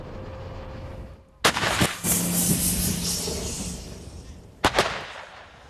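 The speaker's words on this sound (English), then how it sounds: "We went with Ukraine's army to see artillery already firing on Russian forces" Artillery fires on Russian positions with Ukraine's army: two heavy booming blasts a few seconds apart, each followed by a rumbling roll, heard loud and outdoors with no talk.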